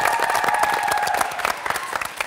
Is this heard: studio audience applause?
yes